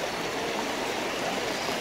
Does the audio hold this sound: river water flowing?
yes